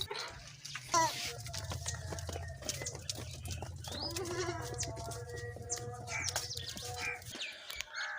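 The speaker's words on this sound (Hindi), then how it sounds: "ये जो बकरियां रस्सी के साथ बांधी हुई हैं, पहले इनको खोलते हैं।" Goats bleat in a village as they are untied from their ropes, several short calls over a low steady hum, with birds chirping and someone talking to the animals.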